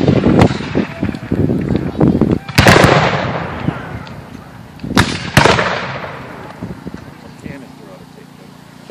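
Musket fire by file at a reenactment, a ragged run of loud black-powder booms with echoing tails rolling one after another, some close and some farther off, amid crowd noise and voices.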